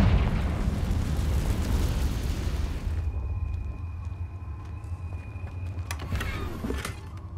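A Confringo spell in Hogwarts Legacy bursts in a loud rumbling blast that fills the first three seconds, then fades into a quieter tail broken by a few sharp crackling pops.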